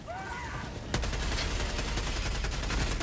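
Sustained rapid gunfire in Helldivers 2 bursts in after a short quieter stretch with a brief whistling tone, then continues as a dense, loud, steady rattle to the end.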